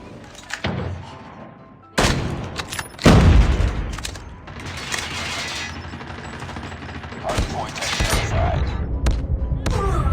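Heavy gunfire in the Call of Duty Mobile shooter game, with repeated loud shots and booming impacts in dense bursts, someone talking excitedly underneath.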